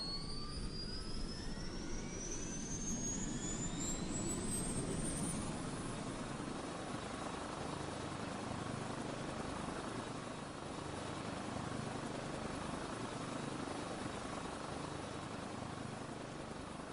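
An aircraft takes off in a video game: a loud, steady jet engine roar with a rising whine that climbs in pitch over the first few seconds, then holds as a dense, constant rumble.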